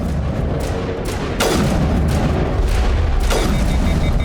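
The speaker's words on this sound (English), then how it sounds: "Did he shot a rocket at them?" A rocket fired in the Mass Effect video game, several heavy booming blasts with sharp onsets around one and a half and three and a half seconds, ringing out over a loud, continuous roar of combat noise.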